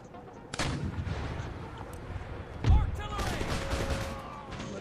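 Artillery in a strategy video game fires a couple of sharp booming shots with rumbling echoes among scattered gunfire, one heavy blast standing out in the middle, while a voice talks over it.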